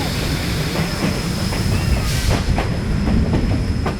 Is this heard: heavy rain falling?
no